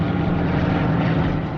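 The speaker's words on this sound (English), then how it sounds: "Cessna was already a single-engine propeller plane, which means it had only one engine located at the front" Single-engine Cessna propeller plane in flight, its one front-mounted engine giving a loud, steady, close droning hum that holds without a break.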